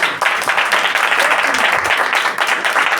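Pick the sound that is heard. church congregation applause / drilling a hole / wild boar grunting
church congregation applause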